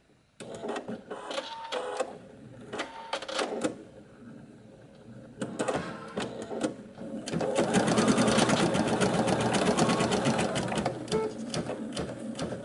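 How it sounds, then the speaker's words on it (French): An embroidery machine stitches at a deliberately reduced speed, its needle hammering in a rapid mechanical rhythm that starts and stops in short bursts before running steadily and loudly to the end. "j'aime bien commencer doucement avant de la laisser broder toute seule"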